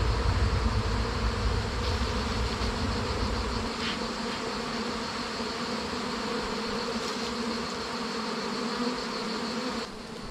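A dense, continuous buzz of many honeybees swarming nearby at a tree, steady throughout with a faint low rumble early on.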